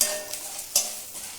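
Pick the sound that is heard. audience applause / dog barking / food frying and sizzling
food frying and sizzling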